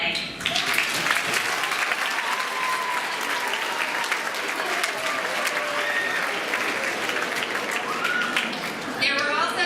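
An audience at a Bellefonte Area Middle School NASA live event breaks into sustained, dense applause that fills the room for several seconds, with voices faintly mixed into the clapping.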